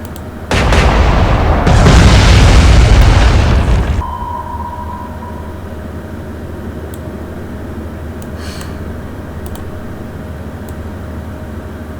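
A naval gun fires in the Atlantic Fleet battle game, one loud booming blast rolling for a few seconds, then fading into a low steady rumble of engines and sea with a faint distant impact.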